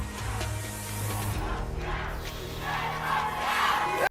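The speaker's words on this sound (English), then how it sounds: "the crowd erupted into chants of "Get Roxy out."" A large studio crowd on a Big Brother eviction night chants and roars loudly and continuously, a dense rhythmic mass of voices that swells before cutting off abruptly.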